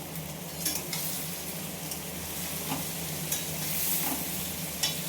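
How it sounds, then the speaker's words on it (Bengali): Two bay leaves fry with potatoes and onion in a pan, a steady quiet sizzle broken by a few light spatula scrapes and taps. "এর মধ্যে আমি দুটো তেজপাতা দিয়ে দিলাম।"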